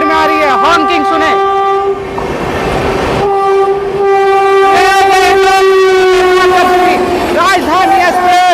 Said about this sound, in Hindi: अभी अगला इसी के साथ देखिए एक और ट्रेन पैरेलल आ रही है, और वो इससे भी टॉप स्पीड में आ रही है। हॉकिंग सुने